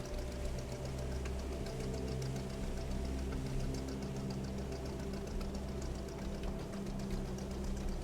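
A fishing boat engine in the game Fishing: Barents Sea runs throttled back at sea. It makes a steady low, chugging diesel drone with a fast knocking pulse and no talking.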